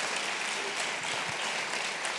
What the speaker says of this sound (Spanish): Dale fuerte el aplauso al Señor.